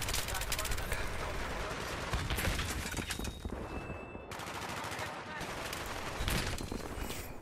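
Sustained gunfire in a video game gunfight: dense, loud bursts of automatic fire and shots that repeat almost without a break, with a short lull partway through.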